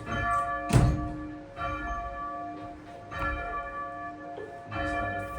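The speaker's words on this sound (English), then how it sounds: "the bells are half a ton" Church bells at St Peter's Church, the largest weighing about half a ton and the rest graded down to a small treble, ring out loud and near. Repeated strikes leave long humming overtones that overlap.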